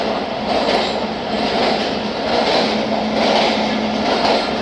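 The 130Dn Thal Express passenger train runs through a curving 1897 mountain tunnel about 1200 metres long, making a loud, steady rolling rumble with gentle rhythmic swells, and no voices.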